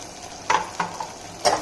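Pavta beans drop into a hot tempering of onion, tomato, garlic, asafoetida and mustard seeds in a pan, setting off a few short bursts of sizzle and scraping over a low background crackle, close and clear.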